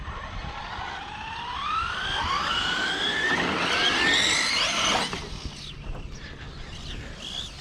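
Radio-controlled short-course trucks, a Losi and a Team Associated Pro4 SC10, race past with high whining electric motors that rise and fall in pitch as they accelerate and sweep by, then fade.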